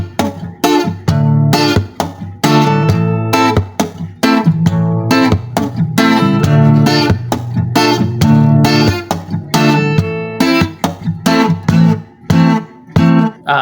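Acoustic guitar playing a reggae strumming pattern: a bass-note pluck, a down-strum, another bass note, then a muted stop on the strings, repeated in a steady, loud, close rhythm with no talking.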